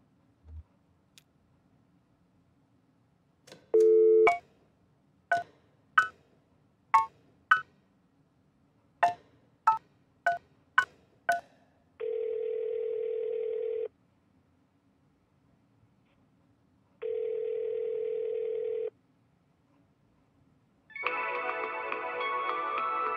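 Telephone keypad dialing in the Kentucky Route Zero video game: isolated clicks, then a run of separate keypad tones, followed by two sustained tone blocks and a final longer tone, all clean against silence.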